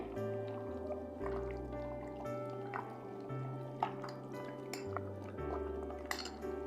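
Meat being worked by hand with spices and mustard oil, giving soft, wet squishing and dripping sounds up close over a low steady background hum.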